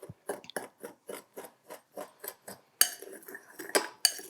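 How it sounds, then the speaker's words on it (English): A spoon stirs salt and dry rub into beef brisket in a crock pot, a quick series of about a dozen scraping, clinking strokes against the pot, ending in a few louder sharp knocks. "So we're just gonna give this a little stir."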